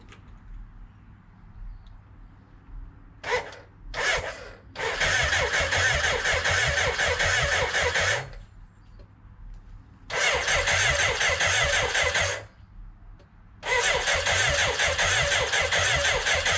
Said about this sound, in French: il s'agit du premier démarrage de la K100 depuis que j'ai commencé à bricoler cette moto